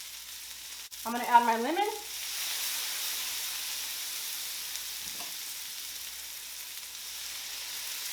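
A pan with butter and grated garlic hisses in a steady, moderate sizzle that rises after a spoken remark and continues alone at an even level.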